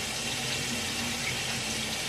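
Tap water runs steadily into a sink while a person's hair is being wetted during a home hair wash, a continuous close hiss and splash filling the whole stretch without a break.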